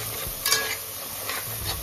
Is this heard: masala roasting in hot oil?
yes